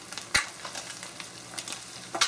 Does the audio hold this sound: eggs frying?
yes